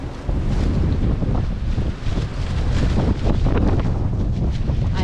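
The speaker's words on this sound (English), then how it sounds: "And the wind is picking up." Strong wind blowing outdoors during a December snowstorm in Flushing Meadows–Corona Park, New York City, a loud continuous roar buffeting the microphone close up, steady throughout with a brief dip, no talking.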